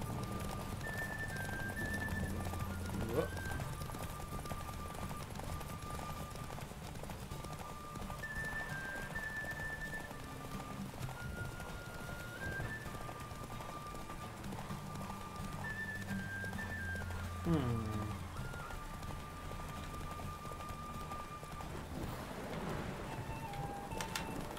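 Geralt's horse Roach runs through the Witcher 3 game world, a steady clip-clop of hooves continuing throughout over game music, with a couple of brief neighs and snorts.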